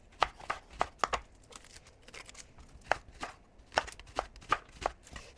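Fresh asparagus spears cut with a knife on a board at home, a run of crisp sharp chops at an irregular pace, close and clear with no talking.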